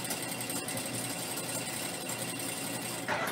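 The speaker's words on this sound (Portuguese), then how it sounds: "vai trazer eles na máquina, vai baixar o pezinho e vai passar uma costura unindo os dois flying geese" A sewing machine stitches two flying geese quilt blocks together with a continuous, fast mechanical whir and chatter, fairly quiet and steady throughout, with no voices.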